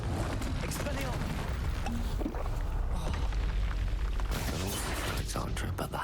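Confringo fire-blast spell explosions in Hogwarts Legacy combat: booming bursts over a constant dense roar of battle noise, with a voice talking throughout.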